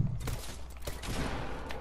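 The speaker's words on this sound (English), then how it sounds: "Who's shooting at me now?" Gunfire in the video game Fortnite: a brief run of several close shots, fairly loud, followed by a rough, sustained rattle with faint traces of voices beneath it.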